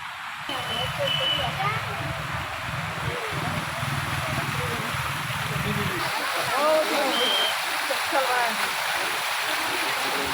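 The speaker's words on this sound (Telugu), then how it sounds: "ఇదైతే వాటర్ ఫాల్ అండి, చిన్నది, చాలా బాగుంది కదా" A small waterfall in the flower park at Sabarmati Riverfront gives a steady broadband rush of falling water, continuous and fairly close, with people talking over it and a low hum in the first half.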